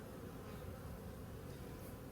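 Bees hum at an open hive in a dense, continuous buzz that holds at an even level, with no voices.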